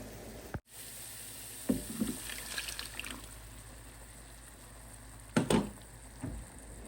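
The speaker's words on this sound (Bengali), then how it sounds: "তো পানি অ্যাড করবো" Water goes into a pan of frying spices for a fish curry, with two brief splashing, sizzling bursts over a low steady hiss, close by and without talk.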